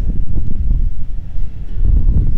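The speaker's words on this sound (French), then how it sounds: "on est sur la plage, il y a du vent." Wind blowing on a beach, buffeting the microphone in loud, low, rumbling gusts that surge and ease over a couple of seconds with no talking.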